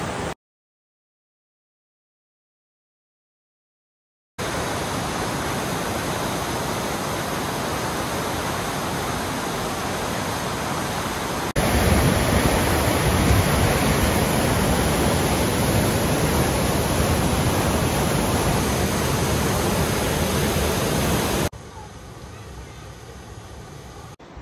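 A steady, loud roar of rushing waterfalls on the Little Bear Trail in Oulanka National Park, Finland, broken by a short silence near the start and shifting in level partway through.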